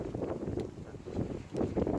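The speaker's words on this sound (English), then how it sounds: "Just that big gust." A big gust of wind sweeps across a vegetable garden, buffeting the microphone with a low, rumbling roar that dips briefly, then surges louder again toward the end.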